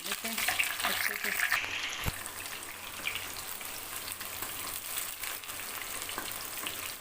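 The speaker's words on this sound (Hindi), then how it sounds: "प्याज को सही इसमें फ्राई करूँगी।" Sliced onions frying in oil in a pan give a steady, close sizzle and crackle with a spoon stirring now and then, lasting the whole stretch with no talk over it.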